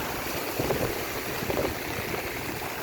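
Seawater surges and splashes at high tide beside a yacht on a beach, a steady rushing wash with two slightly louder swells, faint and continuous with no voices.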